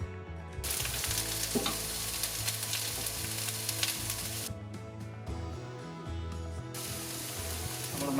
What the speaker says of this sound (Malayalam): ജസ്റ്റ് ഫ്രൈ ചെയ്തെടുക്കാം.